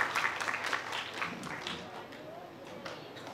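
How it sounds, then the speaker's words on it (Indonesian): Applause from an audience at an alumni gathering with a tourism minister, a fairly faint patter of clapping with some speech mixed in, fading slightly toward the end. "Kita kasih tepuk tangan dulu untuk teman-teman"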